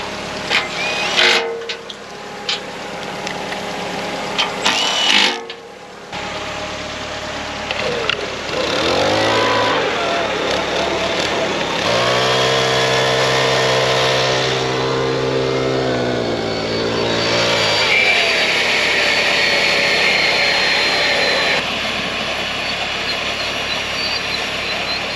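Turbocharged engine on a homemade turbo barrel rig cranking with a few short bursts, then catching and running loudly up close, revving and holding steady with a rising turbo whine and a brief dip partway through.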